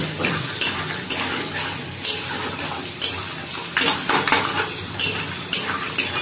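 Peanuts frying in a pan at home, heard as repeated sharp metal clinks of a spoon against the pan over a soft bed of sizzling, no one speaking.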